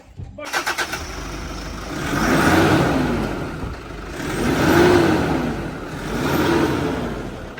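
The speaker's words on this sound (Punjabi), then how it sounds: "ਦੇਖ ਸਕਦੇ ਨੇ ਸਾਊਂਡ ਗੱਡੀ ਦੀ ਪੂਰੀ ਓਕੇ ਆ" A new Toyota Fortuner's engine fires up and revs in three rising, swelling surges, loud and close, with people talking over it.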